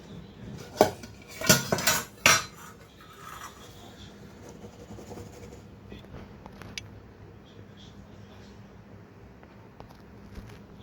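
A steamer pot lid clatters open over steamed katla fish, with a few loud metallic clanks and dish handling up front, then quiet scraping and light utensil noises.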